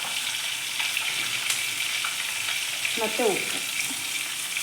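Sliced onions fry in a pan for vangibath, giving a steady, close sizzle with brief stirring scrapes near the end; a voice speaks one short word.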